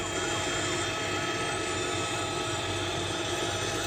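A helicopter flies overhead, its engine and rotors a loud, steady, broadband roar that fills the whole stretch without letting up.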